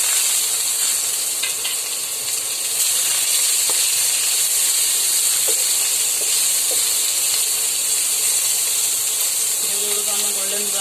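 Onions sizzling and frying in a pan with cumin, for a lady's finger and tomato fry, a steady close hiss throughout with faint stirring sounds.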